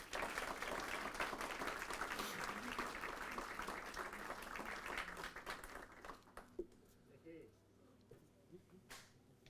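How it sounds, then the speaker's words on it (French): Applause from a church congregation at a service, steady and dense at first, thinning out to scattered claps as it fades away. "et on peut les applaudir"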